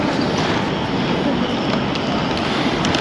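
A Prague tram rolls past close by, a loud continuous rumble of wheels on rail with faint metallic clicks, no voices.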